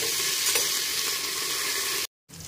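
Whole garam masala, green chillies, bay leaves, coriander and mint frying in hot oil, a dense continuous sizzle that cuts out abruptly for a moment before resuming.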